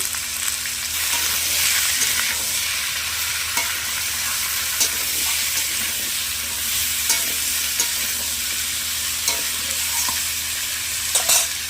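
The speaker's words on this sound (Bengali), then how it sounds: "আলু পেঁপে আমি ভালোভাবে কষে নেব।" Potato and papaya pieces stir-fried with salt and turmeric crackle in a steady, fairly loud sizzle, broken by scattered scraping strokes of a spatula against the pan.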